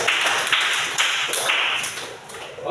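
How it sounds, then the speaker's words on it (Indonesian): A classroom full of students claps together after a lesson, a dense, steady patter of hands close by that swells in bursts and carries on for nearly three seconds without any talking. "Oke, tepuk tangan buat."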